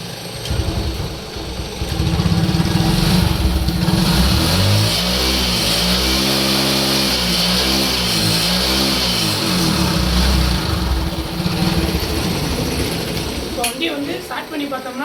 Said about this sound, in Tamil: இப்போ இந்த வண்டியை வந்து நம்ம ஸ்டார்ட் பண்ணி பார்ப்போம்